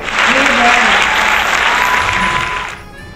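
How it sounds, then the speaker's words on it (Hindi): Studio audience bursts into loud, sustained applause, a dense wash of clapping that holds steady before tapering off near the end, with a few voices faintly mixed in. "दोस्तों, जोरदार तालियां हो जाए।"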